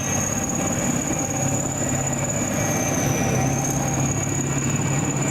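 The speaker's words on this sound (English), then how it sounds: "It's driven by, as I mentioned earlier on, that same year-old V12 diesel engine." A T-55 tank's V12 diesel engine, producing 500 brake horsepower, drives off-road as a steady, loud mechanical drone with a continuous high whine running through it.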